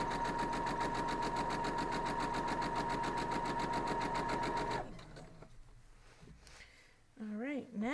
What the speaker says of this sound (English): keep on sewing